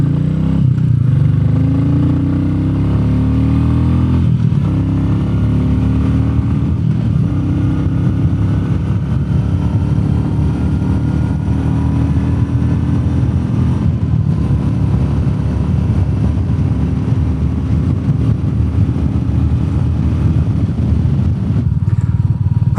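Royal Enfield Meteor 350 motorcycle with a FuelX Pro unit installed, its single-cylinder engine running steadily and close up with a continuous low thrum and faint mechanical clatter, throttle shifting slightly, no talking.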